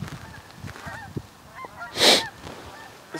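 Canada geese honk outdoors in a series of short calls, mostly moderate and somewhat distant, with one louder burst of noise partway through.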